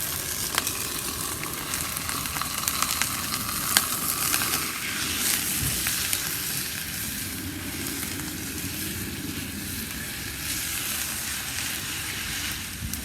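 Ground pork sizzles loudly in a pan set on a kettle grill outdoors, a steady dense crackle and hiss with occasional stirring scrapes, close and constant.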